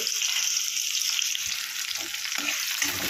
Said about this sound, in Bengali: আমি এখানে পেঁয়াজটা ভালো করে ভেজে নেবো